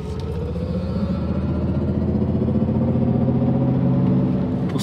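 A Mercedes EQS electric car accelerates at full throttle, giving a steady, loud low rumble and whir that holds constant throughout, with no talking.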